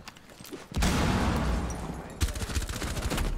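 Sustained bursts of gunfire from a Rainbow Six Siege match rattle out in two long volleys, loud and rapid, with little pause between them.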